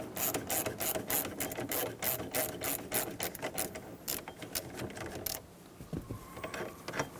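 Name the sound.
steering wheel puller removing steering wheel of GMC K1500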